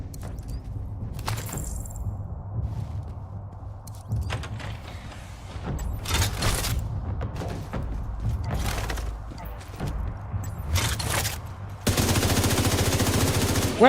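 Gunfire in The Division's Brooklyn setting: several loud bursts of automatic shots and single cracks against a mechanical, creaking game backdrop, ending in a dense, sustained noisy stretch.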